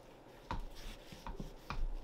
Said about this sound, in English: The knife definitely cut right through it like butter.